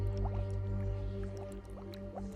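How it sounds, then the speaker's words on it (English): Bubbles rising and popping in a lagoon, a run of soft watery blips and drips over a steady low hum, close and moderately loud, with no voices. "Bubbles were rising from the lagoon."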